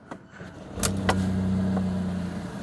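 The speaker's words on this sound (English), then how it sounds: "I don't know if you even heard that start up. It uses the electric motor to start the engine as well" A 2024 Fiat Panda Hybrid's petrol engine is started by its electric motor: a few quiet clicks, then a brief soft catch and a steady low idle hum that settles in close by.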